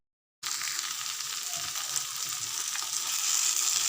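Fish head and radish curry frying with chopped tomato and garam masala, giving a steady close hissing sizzle that starts suddenly after a moment of silence and holds evenly, growing slightly louder toward the end.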